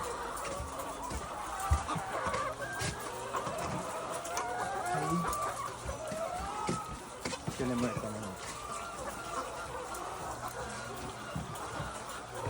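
Chickens on a poultry farm cluck and call softly in the background during an egg harvest, with a rooster-like crow and a voice speaking over the steady barnyard ambience.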